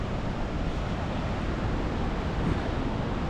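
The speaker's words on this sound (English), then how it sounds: "So that pretty much is the river roaring." Strong-current river roaring near Chilnualna Falls in Yosemite, a steady dense rushing wash that stays loud and constant throughout with no pauses and no voices.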